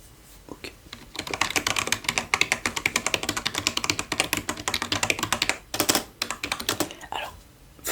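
Rapid, close typing on a computer keyboard in a quiet room, with dense runs of crisp key clicks broken by short pauses.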